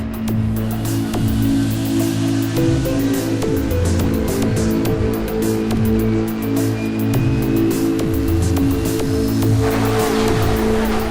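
Onboard a Porsche GT3 Cup race car at Silverstone, the engine screams loud and close with rising gear pulls and sharp shift cuts, wind and road roar underneath.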